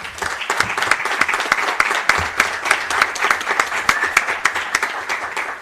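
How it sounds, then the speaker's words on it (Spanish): Audience applause fills a law conference hall for a young criminal lawyers' meeting, dense steady clapping from many hands throughout, loud and close, with no talk over it. "pido un fuerte aplauso para ella"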